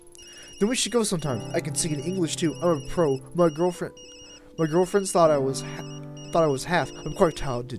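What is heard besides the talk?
phone ringing in the video game Tokyo Dark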